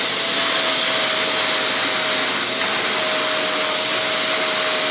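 A vacuum cleaner drones loudly and steadily while cleaning a floor, a close, continuous motor whine with a faint high tone running throughout.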